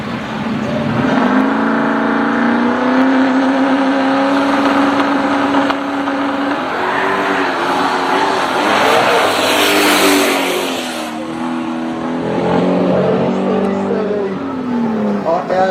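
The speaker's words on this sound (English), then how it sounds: "VW Pro 54, running with 2 litre plus of turbocharged Subaru power" A VW Pro 54 drag car with a turbocharged 2-litre-plus Subaru engine revs hard and launches at a no-prep drag racing event, its engine note climbing and roaring loudly before fading, with a voice speaking over it.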